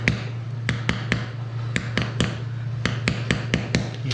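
Brittle epoxy is chipped and scraped out of a concrete control joint, giving a string of sharp, irregular taps and clicks over a steady low hum.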